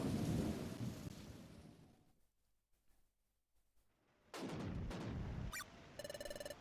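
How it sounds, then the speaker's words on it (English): Dramatic cutscene storm in Pokemon Mystery Dungeon: Explorers of Sky, a loud rushing roar of wind and rain that drops to near silence, then bursts back with a sharp thunder crack followed by bright chiming game tones. "Woo! Dramatic storm."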